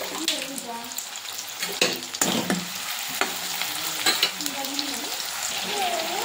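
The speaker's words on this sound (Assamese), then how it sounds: "এতিয়া দিম মই পিঁয়াজ জলকীয়া আৰু এতিয়া দিম মই অকণমান নিমখ পিঁয়াজটো মজিবৰ কাৰণে" Chopped onion and chili with a pinch of salt sizzle steadily in hot oil in a pan, with clinks and scrapes from stirring throughout.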